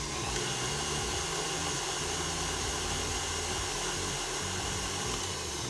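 An electric mixer whisks on low speed in a home kitchen, giving a steady, unbroken motor whir that holds at an even level throughout with no voices.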